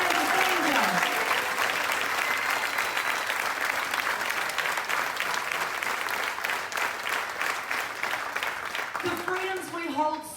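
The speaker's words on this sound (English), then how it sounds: "give a huge round of applause for the families" Audience applause for the families of heroes at a Salute to Heroes event aboard the Margaritaville at Sea Islander cruise ship, a sustained, loud round of clapping with crowd noise and occasional cheers throughout.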